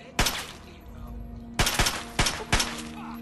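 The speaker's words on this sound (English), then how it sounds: "Oh, come on, just a couple more shots." Gunfire in the video game Fallout 3 against raiders: one sharp shot, a pause, then a quick cluster of three or four more loud cracks, with a faint game hum between them.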